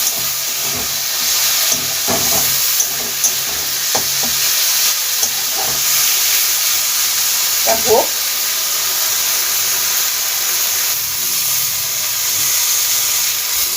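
Moringa flowers and eggplant fry in a pan with a steady, close hissing sizzle that runs throughout, broken by occasional clinks and stirring scrapes.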